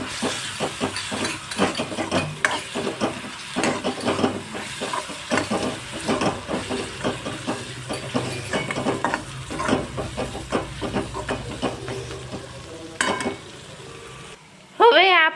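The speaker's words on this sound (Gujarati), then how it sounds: "હવે આદુ મરચાં અને લસણની પેસ્ટ એડ કરશું એક ચમચી" Steady sizzling and crackling of ginger, garlic and chilli paste frying in a pan until golden brown, with spoon scrapes and stirring throughout, ending with a brief high squeal.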